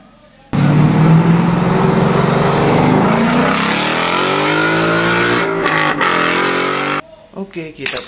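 A yellow toy race car gives off a loud, continuous revving engine whine that climbs in pitch for several seconds and then cuts off abruptly, with brief clicks trailing after.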